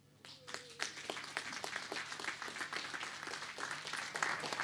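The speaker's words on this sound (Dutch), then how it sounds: "APPLAUS" At the close of a Dutch political TV talk show, a studio audience breaks into steady applause, a dense patter of clapping that holds throughout at moderate loudness.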